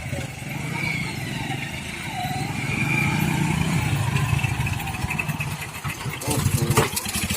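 A motorcycle engine idles and revs steadily, with faint voices and background bustle, ending in a short louder burst.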